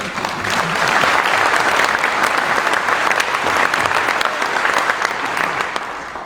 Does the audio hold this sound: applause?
yes